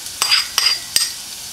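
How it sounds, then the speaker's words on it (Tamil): Finely chopped garlic frying in hot oil in a pan, a steady soft sizzle broken by three sharp stirring scrapes of a utensil at regular intervals. "இந்த பூண்டு இந்த ஆயில்ல நல்லா பொரியணும்."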